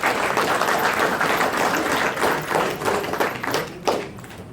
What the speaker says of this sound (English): I think they all deserve a round of applause for their hard work.